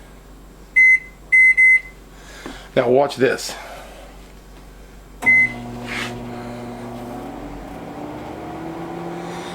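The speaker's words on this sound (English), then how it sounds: "So let's say I want to warm up something in the microwave" A microwave beeps several times as buttons are pressed, then the door thuds shut and a steady hum starts, with someone speaking briefly.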